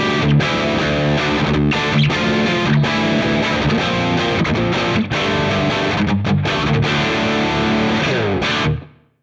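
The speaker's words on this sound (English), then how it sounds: "let's hear my dry tone. I've got my patch set up for a JCM 800 tone" A heavily distorted electric guitar, dry through a Marshall JCM 800 amp simulation on an Ampero II, plays loud, driving chords and riffs continuously, with a crunchy overdriven amp tone before cutting off at the end.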